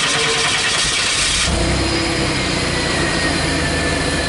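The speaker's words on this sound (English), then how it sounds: "let's go ahead and start up the car" Corvette engine cranking and catching, a loud close starter burst giving way to a dense, steady idle rumble that carries on alone without voices.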